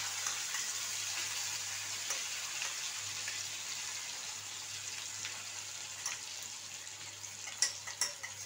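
Paste of half-boiled gourd pulp frying quietly in a pan, a faint, even hiss with a few light clinks and scrapes near the end.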